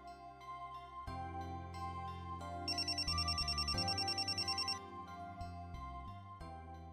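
A telephone rings alone, a melodic ringtone of stepped tones that gives way to a fast trilling bell burst midway before the tune resumes, clear and fairly close.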